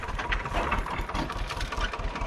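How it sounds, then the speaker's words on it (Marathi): A tractor engine running after being started, a steady low rhythmic chugging throughout, fairly close and continuous. "ट्रॅक्टर चालू केला"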